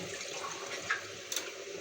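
About a quarter cup of water is poured into a cooking pot of koshari sauce made with vinegar, cumin and salt, giving a short, close splashing rush of liquid with no talk.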